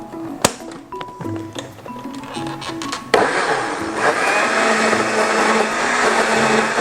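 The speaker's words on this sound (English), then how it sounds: "I'm just going to cover that and then blend it" A few clicks and clunks of a blender being set up, then the motor roars to life and whirs steadily at high speed, blending an avocado ice cream mixture close by with no talking.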